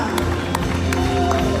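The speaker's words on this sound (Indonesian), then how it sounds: "Tepuk tangan yang paling meriah bagi Allah kita, Yesus Kristus Tuhan." A church congregation claps together, a dense, steady patter of hands filling the room with some voices mixed in beneath the applause.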